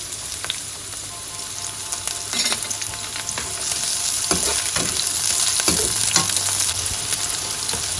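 Onions frying in a pan for turmeric fried rice, a steady broadband sizzle with a few sharper crackles and stirring scrapes, close and continuous with no talk.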